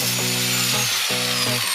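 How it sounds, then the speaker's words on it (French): An angle grinder with a cutting disc slices through a seized shock absorber bolt on a car, its loud, high motor whine repeatedly dipping and bogging as the disc bites into the metal. "Donc je vais le disquer."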